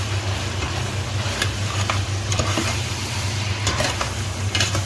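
Ingredients for pinapaitan sauté in a pan, with a loud, continuous sizzle and the occasional scrape of a utensil stirring through the mixture.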